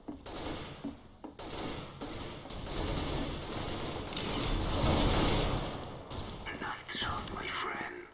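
Gunfire in the video game Counter-Strike, with rapid bursts of shots and mechanical weapon clatter mixed with rumbling game noise, fairly quiet and continuous across the scene.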